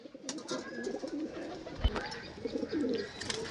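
Pakistani breed pigeons at a pigeon sale coo softly and steadily in a close group, giving a quiet continuous murmur of low calls with a brief thump in the middle.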